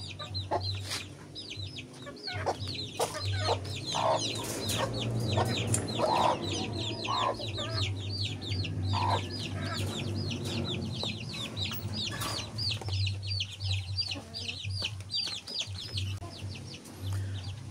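Young chicks cheeping and clucking nearby as they drink water after going thirsty since morning, with a steady low hum underneath and an occasional louder fowl call; no talking.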